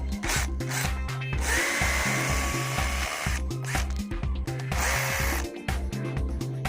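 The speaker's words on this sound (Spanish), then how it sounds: "Aquí estamos preparando taladro. Vamos a hacer los agujeros ahora." Power drill boring mounting holes for a Hikvision dome CCTV camera installation, loud and close, with the motor's whine cycling through repeated bursts and pauses.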